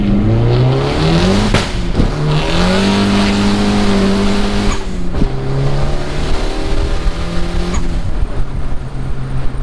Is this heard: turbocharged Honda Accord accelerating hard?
yes